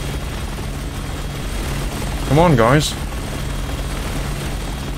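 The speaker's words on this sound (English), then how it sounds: "Okay, now take down that chopper." A helicopter in the video game Resident Evil 6 keeps up a steady, mid-level rotor drone throughout, while someone speaks briefly over it.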